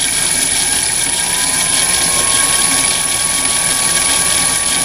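A Chinese mini lathe's three-phase motor, driven by an XSY-AT1 VFD, runs in jog forward at about 199 RPM, giving a steady, loud, unbroken hum with a thin high-pitched whine held throughout.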